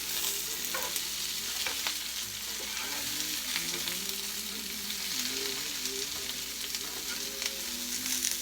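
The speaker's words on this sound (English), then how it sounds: "Just kind of start stir frying everything around." Onions and tofu stir-fry in a hot skillet with a steady, continuous sizzle and faint scraping of stirring, close and even throughout with no talking.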